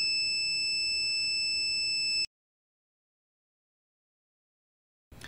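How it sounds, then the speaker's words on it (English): A steady, high-pitched electronic buzzer on a laser obstacle-detection circuit drones continuously for about two seconds while the laser beam is misaligned, then cuts off abruptly into silence before a faint noise returns. "because the beam is not aligned, the buzzer is on"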